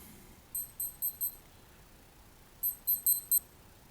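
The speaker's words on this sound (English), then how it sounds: "That was just some of the chimes there on my other watches, which are in the background." Several digital wristwatches chime in the background with two bursts of four quick high electronic beeps, set apart by a pause in a quiet room.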